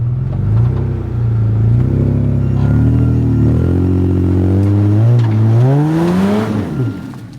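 A Nissan Patrol 4x4 engine revs hard as it climbs a rough off-road track, loud and close, its pitch rising and falling in surges with the throttle and a final sharp climb before easing off.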